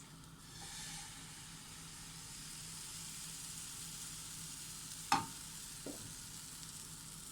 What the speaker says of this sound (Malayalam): ഇനി നമുക്കിതിലോട്ട് നമ്മൾ റെഡിയാക്കി വെച്ചിരിക്കുന്ന മാവ് ഒഴിച്ചു കൊടുക്കാം